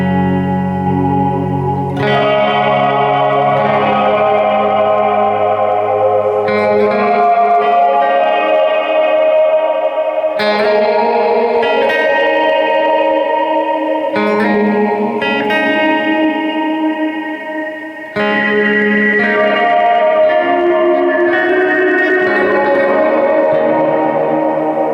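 An electric guitar plays through a vowel filter effect with the resonance turned up, stepping through each vowel setting; loud sustained chords and notes take on shifting, voice-like timbres with reverb and echo, with abrupt changes every few seconds.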